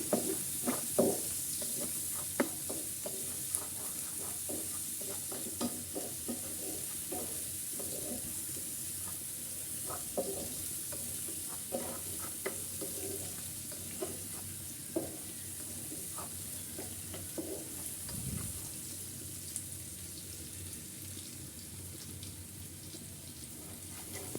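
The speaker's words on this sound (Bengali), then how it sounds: "পেঁয়াজগুলো ভালো করে নেড়ে নেব গোল্ডেন ব্রাউন হওয়ার কিছু আগে অন্য অন্য মশলা দেব" Sliced onions for a pomfret dopiaza fry in a pan, stirred now and then, making a quiet steady sizzle dotted with light clicks and scrapes of a spatula over a long stretch.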